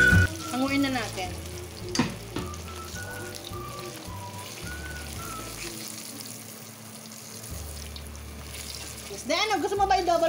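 A second batch of chicken feet frying in hot oil gives a continuous crackling sizzle, heard under background music with a few louder bursts of spattering near the end.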